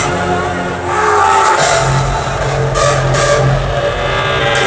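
A car engine revs loudly and steadily close by, its broad roar holding and swelling over several seconds with a couple of brief surges, no voices.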